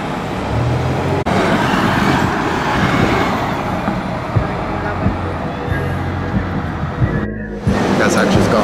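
Dart First State bus on Route 5 at the Wilmington Transit Center, a loud idling engine rumble amid surrounding traffic noise, close by and continuous, with a person talking over it.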